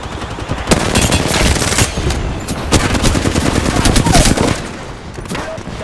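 Automatic weapon fire in the battle-royale video game Apex Legends, dense rapid bursts of gunshots rattling almost continuously at close range, loud throughout with game effects layered in.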